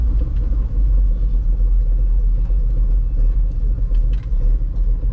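A 1964 Chevy grain truck's engine runs with a loud, steady, low rumble close by, idling roughly with slight fluctuations and no voices.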